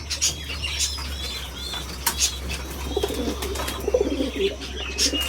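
A pair of Baghdadi pigeons coo in soft repeated bursts close by, with a few light chirps and a brief flutter of wings over a low steady hum.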